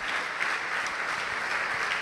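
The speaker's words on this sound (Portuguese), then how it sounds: "Vamos aplaudir o Senhor." A church congregation claps together in sustained, dense applause at a worship service, steady and even throughout.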